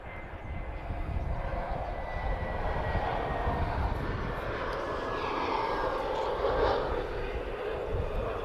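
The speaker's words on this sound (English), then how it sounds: "that was uniform 27604 arriving from Madeira. That's EasyJet, of course, A320, EasyJet Europe." An EasyJet Europe Airbus A320 arriving from Madeira lands at Lisbon Airport, its engines making a broad, steady jet roar heard from outside the airport that swells slightly as it passes.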